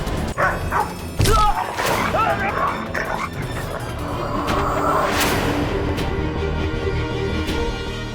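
A dog in a courtroom drama scene gives a few sharp barks and yips near the start, then falls away under tense background music and ambient noise.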